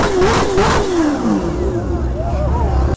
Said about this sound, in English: This car and my H2R were having a rev battle and we were not going easy